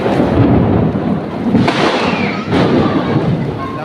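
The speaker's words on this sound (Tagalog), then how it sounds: "Ang lakas ng kulog." Loud thunder cracks and rolls during heavy rain in a barangay, two sharp bursts over a constant dense roar of downpour, close and powerful with no voices.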